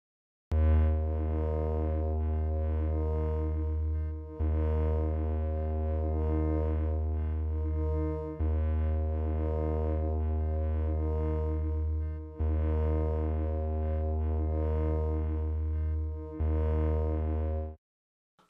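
Sustained tones from the Dawesome Myth synthesizer with a slow, wavering sine-wave LFO modulation, repeating as four long held notes with brief breaks between them.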